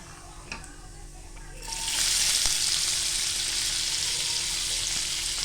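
Cumin and chopped onion fry in hot oil in a pan, a quiet crackle that jumps to a loud, steady sizzle once the onion goes in and holds close to the end.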